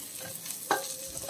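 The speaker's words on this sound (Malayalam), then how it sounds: "ഈ അവസാനമായിട്ട് കുറച്ച് കറിവേപ്പില ഇവിടെ ഇട്ട് കൊടുത്താൽ നമ്മുടെ റോസ്റ്റ് തയ്യാർ." Curry leaves drop into a pan of sizzling oyster roast, giving a soft steady fry with a brief crackling burst as they hit the hot oil; quiet, close and without talk.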